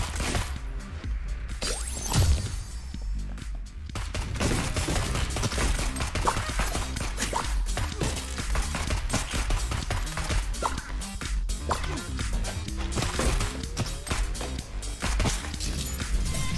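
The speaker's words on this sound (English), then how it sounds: "I'm shooting real fast. So I got this default ass gun." Rapid gunfire from the default gun in the game Neon Abyss, a dense continuous stream of sharp shots lasting throughout, with a brief quieter gap near the start.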